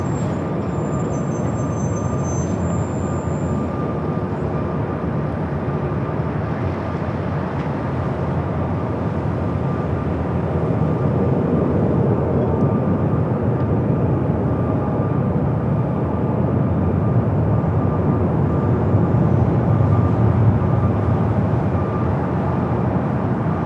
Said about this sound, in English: A380 Super also heading up here for north side at takeoff.